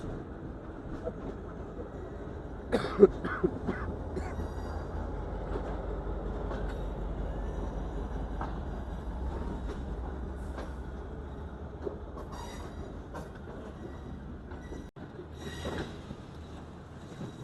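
A passenger train runs on its tracks between Karachi and Lahore as it approaches Lahore railway station. A continuous loud rumble carries faint rail clicks, with brief squeals and clanks near the start and again near the end.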